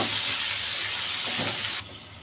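Chopped tomatoes hit hot oil in a pan, giving a steady broadband sizzle and hiss that drops abruptly in loudness partway through as the frying settles.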